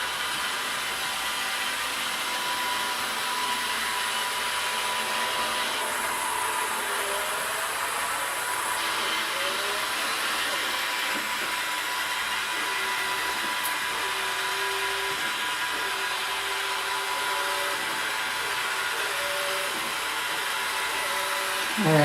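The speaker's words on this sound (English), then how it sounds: "Here comes my Roomba." A Roomba robot vacuum cleaner runs nearby with a steady whirring motor hum and brush drone, its pitch stepping slightly as it moves, continuous for over twenty seconds without speech.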